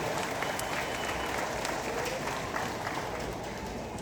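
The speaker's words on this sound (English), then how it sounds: "Let's give the government of Belize a resounding applause for this initiative." Sustained applause from an audience at a high school graduation ceremony, a dense, even wash of many hands clapping that holds steady for several seconds.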